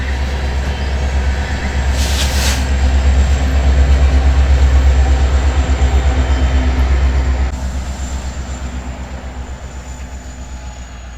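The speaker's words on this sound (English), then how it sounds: "An SC70 Ace, 8446, pushes the train as it travels north." A BNSF freight train rolls north with SD70ACe locomotive 8446 pushing at the rear, a steady loud low rumble of engine and wheels that holds for most of the span and eases slightly near the end.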